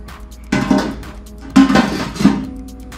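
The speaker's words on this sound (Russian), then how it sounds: "Давайте закроем крышку." Metal lid of a Weber Go-Anywhere portable charcoal grill being closed: three close clanking knocks of metal on metal, spaced about a second apart, with no voices.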